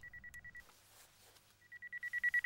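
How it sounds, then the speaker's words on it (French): A phone rings inside a bag, a repeating electronic trill that sounds in short bursts, fades briefly and returns louder and closer in a steady pulsing rhythm. "Ça sonne dans ton sac."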